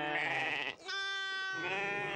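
Sheep from a herd sheltered in a tent in the Moroccan Atlas bleat in three close, loud calls one after another, the middle cry higher and more wavering.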